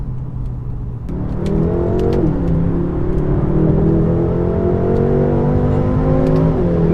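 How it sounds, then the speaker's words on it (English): A BMW M6 Gran Coupe Competition engine with a performance exhaust revs up from idle into a loud, steady roar with a deep exhaust note, pitch rising and holding, close by with no talking. "let me demonstrate to you guys how this car sounds like with the in-performance exhaust"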